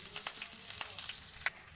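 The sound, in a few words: chopped onion and green chillies frying in oil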